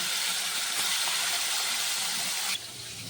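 Bhetki fish bones frying in hot oil left from frying the fish, giving a steady, loud broadband hiss that drops abruptly to a lower, quieter sizzle near the end.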